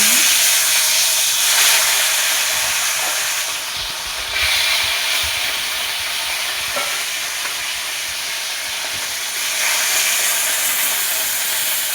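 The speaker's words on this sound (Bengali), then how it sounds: "তেল গরম হয়ে গেছে মাছটা ভেজে নেব" Pieces of rohu fish frying in hot oil, a loud, steady broadband sizzle with a bright hissing crackle that holds through the whole stretch, briefly dipping and swelling as the fish is moved.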